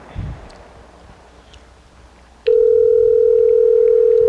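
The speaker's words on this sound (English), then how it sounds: "they didn't even answer the phone" A telephone call to a convenience store goes unanswered: after faint background rustle, a loud steady ringback-style tone starts and holds unbroken to the end.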